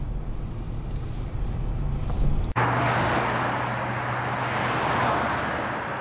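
Steady road and engine rumble from a car driving along the road from Hobart east to Hastings, Tasmania, heard from inside the cabin, with a sudden shift to louder broadband road noise partway through.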